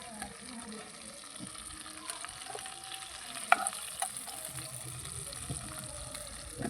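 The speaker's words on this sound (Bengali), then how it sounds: "মাছগুলো ভাজা হয়ে গেছে, এবার আমি একটা একটা করে তুলে নিই" Prawns fry in oil in a kitchen pan with a soft, continuous sizzle and bubbling, broken by a few light clinks and stirs as pieces are lifted out.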